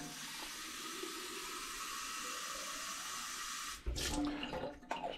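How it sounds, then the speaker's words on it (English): Tap water pours steadily into the reservoir of a boot cleaner, a continuous hiss that cuts off near the end, followed by a few brief handling knocks. "fill it with water"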